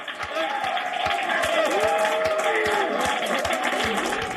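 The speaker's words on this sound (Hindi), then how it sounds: "तालियों की गड़गड़ाहट ये बताने के लिए काफी है कि नासा के वैज्ञानिकों ने कितनी बड़ी सफलता हासिल की है" NASA scientists in mission control applaud the Perseverance rover's Mars landing with rapid, steady clapping from a room full of people. Excited voices and talk rise over the applause.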